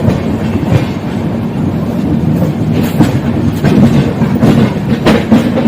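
Bihar Sampark Kranti express train running, heard from inside a 2AC coach: a loud, steady rumble with rhythmic clickety-clack of wheels over rail joints and occasional sharper knocks, no voices.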